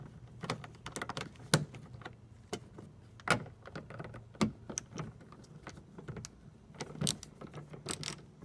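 Ratchet wrench turning while working on the trunk release switch of a Chevrolet Cruze, quick irregular clicks and ticks in short bursts, close and fairly quiet.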